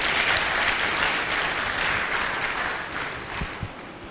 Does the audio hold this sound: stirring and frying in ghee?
no